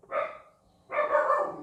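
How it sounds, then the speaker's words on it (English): A dog barks twice, close and fairly loud, with a short pause between the barks, during a car windshield repair with no talk over it. "Seems like my dogs only bark when I've got the road in."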